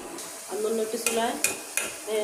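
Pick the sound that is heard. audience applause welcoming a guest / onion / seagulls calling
onion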